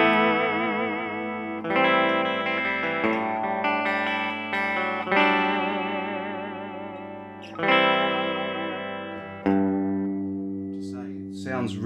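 Milton MT1 prototype electric guitar on its bridge pickup through a Carlsbro GLX85 amp, mic'd with an SM57, strummed chords ringing with chorus-like shimmer and decaying between strums, played close and loud with no talking.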